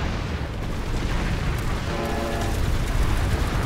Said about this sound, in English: Someone blew up the terminal.